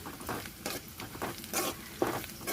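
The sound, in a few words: onions frying in a pan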